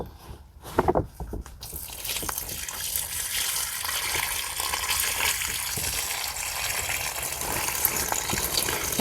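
Water gushing steadily into a 2.7 gallon collapsible water jug as part of an SUV camping setup, a continuous close hiss and splash lasting several seconds after a few brief knocks at the start.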